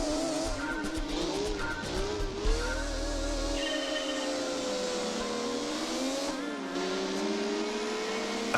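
Race car engines rev and whine as Honda NSX, Integra and Civic cars drive, rising and falling pitch sweeps of high-revving motors with occasional tire squeal, steady and fairly loud.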